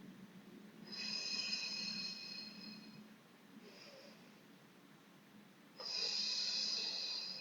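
A person holds an exercise pose to ease hip pain, breathing in slow, soft, close drawn-out breaths with a pause between them.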